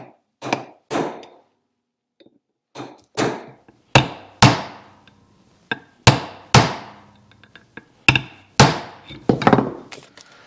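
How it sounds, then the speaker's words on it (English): Sharp hammer blows pound on a V-twin kick starter hub in an irregular run of about a dozen strikes, some in quick pairs, each ringing briefly, close and loud with no talking. "And then just pound away."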